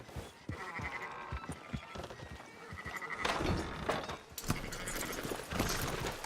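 Sheep bleat repeatedly in Red Dead Redemption 2, with moderate-distance animal calls over hoof clops and ambient farm noise, a few sharper knocks mixed in.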